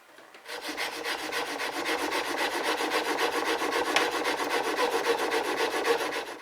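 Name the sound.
honing a chisel bevel on fine sandpaper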